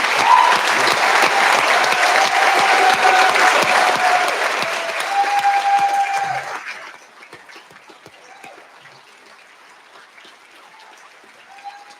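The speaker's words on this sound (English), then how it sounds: "So if we can just give it a round of applause for an awesome soldier." Loud, sustained applause from the audience at a military retirement ceremony honoring a retired soldier, dense clapping for about six seconds before fading to quiet room murmur.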